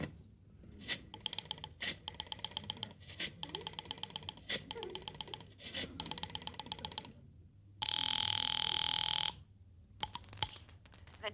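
A rotary telephone is dialed in a radio comedy, bursts of clicking separated by short pauses, then a long, loud ring sounds alone before a brief clatter at the end.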